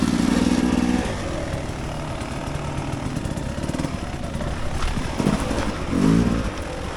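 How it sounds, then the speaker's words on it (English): A dirt bike engine runs on an off-road singletrack trail at Penrose Commons OHV Area, a loud close rumble that idles and revs unevenly throughout the clip. "Over that thing with my bike running"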